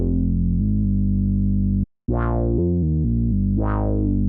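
Raw, unprocessed Minimoog-style analog bass synth from Arturia Analog Lab plays sustained low notes with a brief gap near the middle, filter sweeps opening twice, loud and alone.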